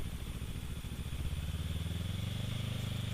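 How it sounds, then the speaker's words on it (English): A 2012 Kawasaki Ninja 650 parallel-twin motorcycle engine runs nearby with a steady, throbbing pulse, rising slightly in pitch toward the end. "this is a 2012 Ninja 650. It's a parallel twin."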